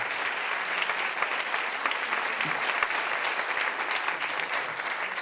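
Steady audience applause follows a piano performance, a dense, even clatter of many hands clapping that carries on throughout without pause, with no talking over it.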